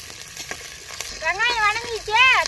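Shallots, garlic, dried red chilies and curry leaves frying in groundnut oil for a radish chutney, a soft steady sizzle under brief wavering voice-like tones near the end.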